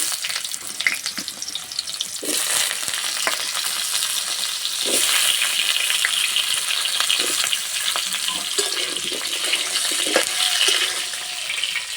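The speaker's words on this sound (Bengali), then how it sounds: "একসঙ্গে ভালো করে ভেজে নেব।" Potatoes fry in hot oil with cardamom and bay leaves, a dense, continuous hiss and crackle close by, with occasional stirring scrapes and soft knocks against the pan; no one speaks.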